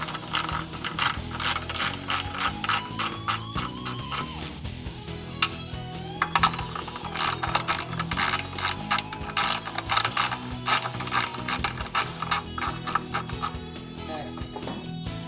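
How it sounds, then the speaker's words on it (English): A ratchet wrench removes bolts from a JLG LiftPod frame, giving rapid close clicking in repeated bursts with brief pauses and light metallic handling between them. "On the other side, we can take the other 4 bolts out."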